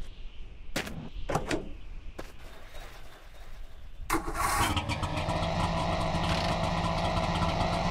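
A vehicle engine in The Long Drive cranks over after a few clicks and catches, settling into a steady, loud idle that rattles on continuously with a popping, clattery character.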